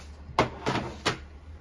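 A desk drawer full of coloring markers is pushed shut, giving three short knocking thuds about a third of a second apart, close by and moderately loud in a quiet room.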